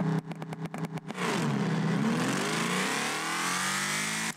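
A car launches from a race start in the Test Drive Solar Crown racing game: a few sharp clicks, then a loud engine roar that climbs steadily in pitch as it accelerates, with no speech over it.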